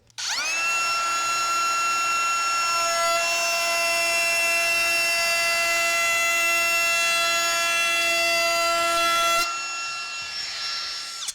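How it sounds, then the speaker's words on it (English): A DEWALT 20-volt cordless compact router fitted with a 3/8-inch roundover bit spins up to a steady high-pitched whine and cuts wood smoothly for about nine seconds, then powers down and winds off. "now let's try a 3/8 of an inch roundover bit"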